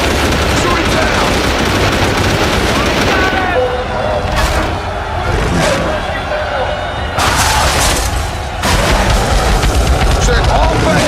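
Sustained gunfire and explosive bursts from armed forces firing on a giant ape in a city street in the Peter Jackson's King Kong video game on GameCube, loud and continuous with shouted voices mixed in.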